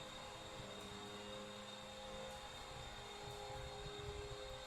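A plane flies overhead in the survival game Rebuild 3, a steady, even roar of engine noise holding at a constant level for several seconds with no voices.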